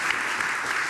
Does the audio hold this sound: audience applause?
yes